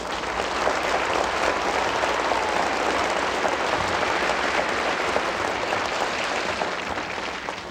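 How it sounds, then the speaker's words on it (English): Audience applause for contestants at the 1981 Miss Orient USA Pageant, an even, sustained wash of clapping from a large crowd at a moderate distance, holding steady for several seconds. "I think we should give all of them a round of applause."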